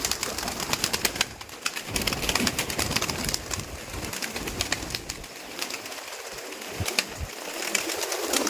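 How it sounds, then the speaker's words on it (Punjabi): Pigeons coo softly in low, throaty murmurs amid scattered fluttering and rustling, with no talking. "ਹੁਣ ਆਪਾਂ ਕਬੂਤਰ ਛੱਡਦੇ ਆ"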